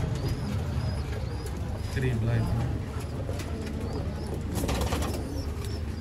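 Sialkoti pigeons, a male with his mate, give soft low coos over a constant rustling background, while someone speaks briefly in the middle.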